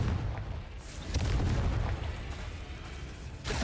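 A Confringo fire spell goes off in the video game Hogwarts Legacy, a deep rumbling blast with a booming low-end roar that swells and lingers, followed by a fresh burst of crackle near the end.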